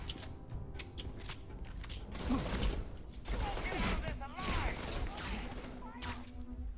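An inaccurate gun in the video game Starfield fires a few sharp single shots early, followed by busier mechanical combat noise and clattering effects in the game mix.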